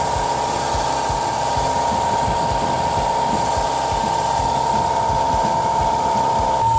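A Toyota AE86 engine fitted with synchronized quad throttle bodies idles with a smooth, steady hum and a low pulsing beat, loud and close, with a constant whine on top and no talking.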